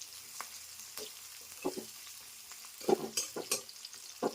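Chopped onions sizzle quietly in hot oil for a crab curry, with intermittent scraping and clinking as a utensil stirs them in the pan.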